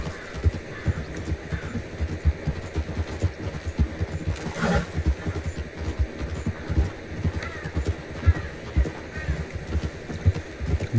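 Steady rhythmic clip-clop of stagecoach horses' hooves in Red Dead Redemption 2, with a rolling rumble of wheels underneath, fairly close and continuous throughout.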